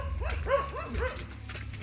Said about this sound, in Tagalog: pinahulan ako ng aso